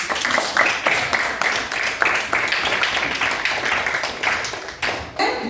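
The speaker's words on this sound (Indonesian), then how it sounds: "Berikan tepuk tangan sekali lagi" An audience claps after a student art presentation in a classroom, a dense and steady patter of many hands that holds for several seconds before thinning out near the end.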